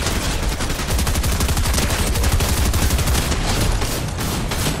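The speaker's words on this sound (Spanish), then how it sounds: "Chucky, del otro lado se escuchan disparos." Rapid automatic gunfire in the video game Fortnite, a dense, continuous rattle of shots that stays loud and close throughout with no talk.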